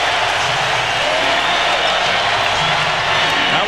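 Basketball arena crowd roaring steadily after a three-pointer by Dennis Rodman in a 1997 NBA playoff game, a dense, continuous wash of cheering that holds loud throughout.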